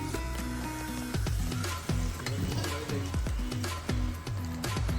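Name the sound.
spices, cardamom and bay leaf frying in oil in kadai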